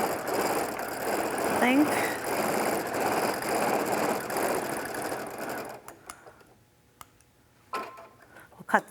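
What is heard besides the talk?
sewing machine automatic thread cutter and stitching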